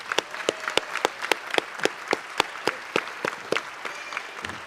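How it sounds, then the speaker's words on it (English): Audience clapping for retiring staff at a school district board meeting: a small group's rhythmic hand claps, evenly spaced and fairly close, with no talking. "we'd love to give them a round of applause"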